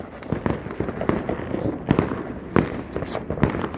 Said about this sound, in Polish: I tak fajerwerki będzie tak samo słychać.